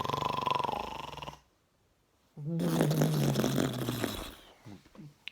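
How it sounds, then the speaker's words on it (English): Loud, drawn-out snoring, then a second of quiet before another heavy rattling snore with bubbly, sputtering breaths. "he continued to snore, blowing bubbles in the murky water"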